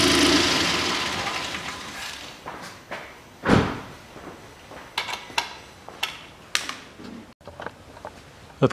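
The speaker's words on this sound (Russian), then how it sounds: "Открываю пассажирскую дверь, открываю бардачок" A 2012 Kia Picanto 1.0 passenger door and glovebox being opened after the engine is shut off: several sharp clunks and latch clicks, one louder thump near the middle, over a quiet background with no talking.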